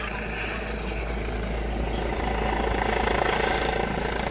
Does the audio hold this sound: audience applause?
no